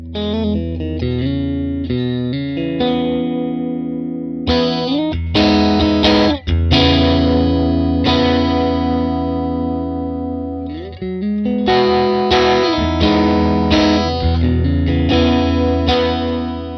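An electric guitar through a hand-wired VOX AC amp's effects loop plays chords and single notes with a distorted, chorused effect, loud and sustained with a gap mid-phrase.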